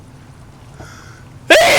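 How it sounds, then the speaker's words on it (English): A single sharp, loud sneeze bursts out at the end after a quiet stretch. "Sneezing a lot."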